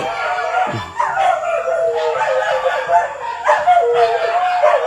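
A dog howls in long, wavering, mournful cries, several overlapping in close succession, fairly loud and near, with no talk over it.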